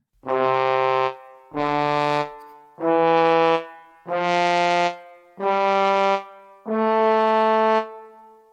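A bugle plays six sustained notes climbing step by step up a scale, each held about a second with short gaps, clear and bright with no other sounds.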